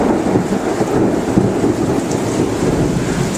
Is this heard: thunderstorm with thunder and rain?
yes